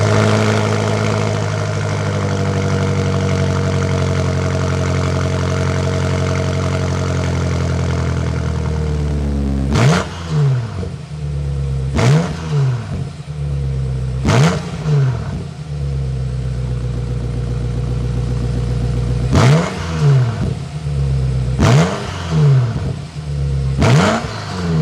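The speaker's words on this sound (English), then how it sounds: "Let's hear that exhaust." BMW M8 Competition with its 4.4-liter twin-turbo V8 settles into a steady loud idle, then delivers a string of sharp blips, six or seven rising and falling revs in a row, each one close and dominant.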